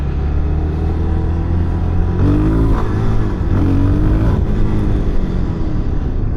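A Suzuki DRZ4SM motorcycle engine drones steadily during a test ride, a loud continuous rumble with rising and falling pitch sweeps as the throttle varies, heard up close with constant wind.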